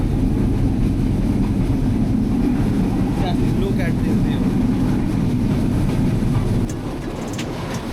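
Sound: Silk City Express train, Dhaka to Rajshahi

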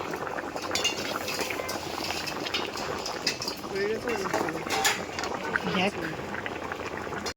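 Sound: potatoes boiling for biryani

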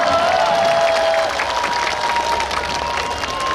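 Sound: audience applause and cheering

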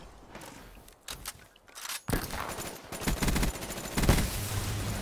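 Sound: gunfire from a gun in the video game Black Ops 3

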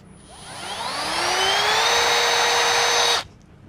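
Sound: Milwaukee M12 impact drill running at speed one

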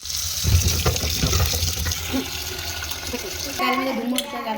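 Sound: raw tamarind being washed under running tap water

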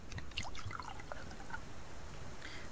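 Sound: watering plants, pouring water in video game Subsistence

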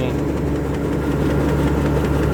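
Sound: Kubota DC93 combine harvester engine running

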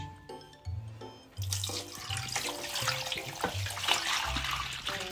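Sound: water being poured

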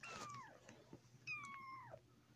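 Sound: cat meowing

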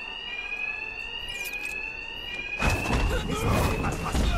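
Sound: alarm ringing during a robbery in Batman: Arkham Knight video game

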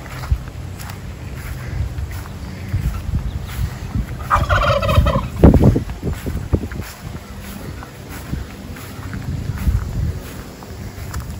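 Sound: turkeys gobbling

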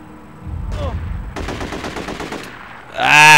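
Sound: gunfire from The Getaway video game

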